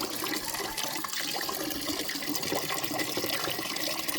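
Water gushes from a PVC pipe into a container, a steady, close splashing rush that stays even throughout with no talk.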